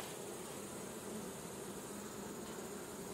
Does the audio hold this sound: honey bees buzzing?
yes